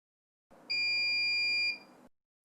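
A single steady electronic beep from a SmokeSight SS10LNAN wireless smoke alarm, shrill and tonal, holding for about a second before cutting off.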